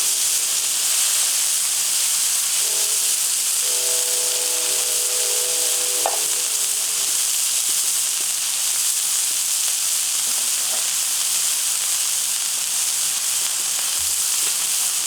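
Burger patties fry on a grill for a Poblano Picasso burger, a steady broad sizzle and hiss running the whole time with faint stirring or scraping now and then, and no talking.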